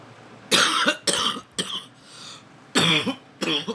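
Several harsh, close coughs come in two bursts, each a quick cluster of hacking fits separated by a short pause.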